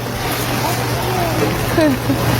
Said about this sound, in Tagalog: Ayan nga oh, ang lakas ng ulan.